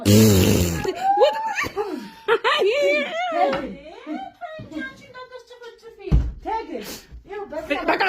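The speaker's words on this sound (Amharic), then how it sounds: "ምን ፈስ ነው እንደሱ?" A fart breaks out amid lively family talk and laughter, a short buzzy burst standing out from the surrounding voices.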